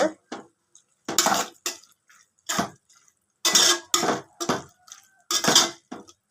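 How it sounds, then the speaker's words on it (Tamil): Squid pieces get stirred in a cooking pan, giving short metallic scrapes and clinks in separate bursts with brief quiet gaps between them, close and clear. "மீன் ஆட் பண்ணியாச்சு லைட்டாக கிண்டி விட்டுக்கோங்க"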